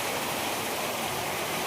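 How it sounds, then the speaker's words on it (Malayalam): Rain falling outdoors as a steady, dense wash of hiss that stays even and fairly soft throughout, with no voices. "മഴ പെയ്യുന്നുണ്ട്"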